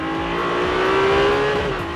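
A Ferrari 296 GTB engine pulls hard, a loud sustained tone whose pitch climbs steadily as the revs rise, then dips slightly near the end, heard up close with no talk.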